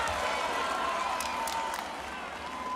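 Volleyball arena crowd at a Pro Volleyball Federation championship semifinal, Omaha Supernovas playing, roaring steadily on their feet, a dense continuous cheer with whistles and shouts throughout.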